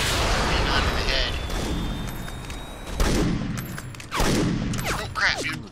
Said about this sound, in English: There's two spam cannons going off on the shipwreck